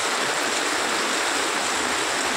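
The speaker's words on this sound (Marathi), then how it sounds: "भरपूर पाऊस लागतो आहे, भरपूर म्हणजे तुफान, सगळीकडे पाणीच पाणी." Heavy monsoon downpour and floodwater rushing across roads and fields in Kankavli during a cloudburst: a dense, continuous hiss and roar of water with no break.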